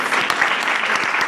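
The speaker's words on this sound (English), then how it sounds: "So let's give him another round of applause." Applause from an audience at an International Women's Day event, a dense steady wash of clapping that stays loud and even throughout the short stretch.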